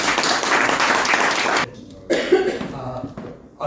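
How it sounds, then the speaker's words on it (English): An audience breaks into brief applause that stops abruptly after a second and a half, followed by a quieter room with a cough. "Let's give a round of applause to Raina."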